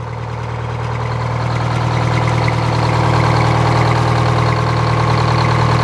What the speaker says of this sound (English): That's a good running engine.